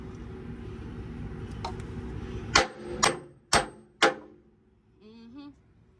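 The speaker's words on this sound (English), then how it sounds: "I gotta get the real hammer" Four sharp, loud metal hammer strikes ring out about half a second apart over a rumbling idling truck engine, each with a brief clanging tail, during a trucker's roadside repair.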